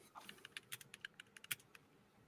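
A burst of quick, light keystrokes on a computer keyboard, irregular clicks close by and fairly quiet, alone with no talking.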